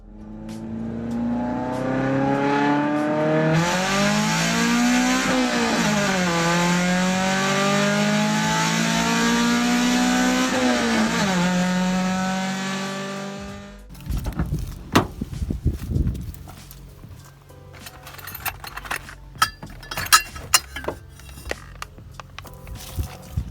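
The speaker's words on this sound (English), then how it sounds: "looks like I'm going to have to take the race car to town" A Chevy Sonic RS 1.4 turbo engine drones and revs up and down for several seconds, loud and near, then cuts out into clanks and rattling mechanical noises.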